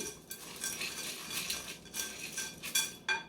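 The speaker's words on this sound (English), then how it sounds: "We're going to stir those up here." Chips are stirred in a bowl with a utensil, making a series of close, dry rustling and clinking scrapes in uneven bursts, with no one talking.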